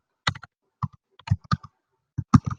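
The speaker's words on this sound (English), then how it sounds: "I could start typing something, whatever it is, and then insert it." Typing on a computer keyboard, short bursts of quick key clicks separated by pauses, close and crisp against a silent background.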